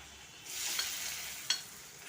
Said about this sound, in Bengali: মশলাটা ভাজা ভাজা করে নিয়েছি।